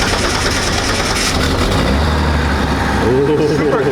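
A 4.2-liter Atlas 4200 engine idles in a BMW E36 drift car, a steady low rumble running throughout beneath people talking nearby.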